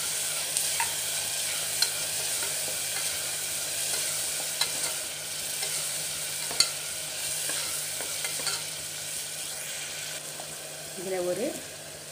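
Chicken kulambu frying in a pan with ground shallot paste stirred in, a steady soft sizzle under scattered scraping stirs and light clinks of the spoon, with a brief louder bubbling near the end.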